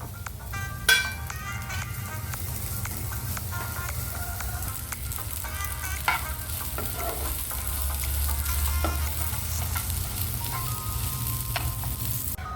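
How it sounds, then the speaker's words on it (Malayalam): Chopped seedless black and golden raisins sauté in a pan with a steady sizzle throughout, broken by a few sharp utensil clicks and scrapes. "ഇതിലേക്ക് ചെറുതായിട്ട് അരിഞ്ഞ black and gold raisins seedless ആണ് ചേർത്ത് കൊടുത്ത് അതും വഴറ്റി കൊടുക്കാം"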